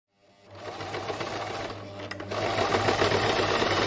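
Sewing machine stitching parachute fabric in a parachute repair workshop, a steady fast mechanical whirr that starts after a brief silence and grows slightly louder and busier partway through.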